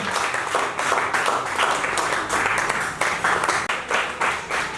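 A church congregation applauds to welcome the pastor, a loud, sustained burst of many hands clapping close by, with a few faint voices mixed in.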